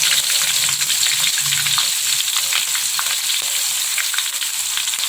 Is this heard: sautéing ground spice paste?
yes